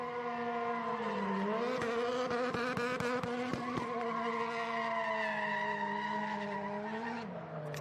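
Travis Pastrana's car spins donuts at a racing event, tires squealing in a sustained, wavering wail with a burst of sharp crackles partway through, heard from a distance.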